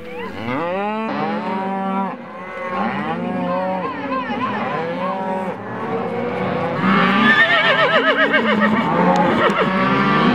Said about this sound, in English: see the roundup of cattle headed to a spring tradition.